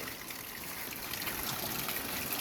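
Water pours and splashes in a steady, continuous stream while cooking a salted whole frog in bamboo, close by with a broad hissing texture and no speech.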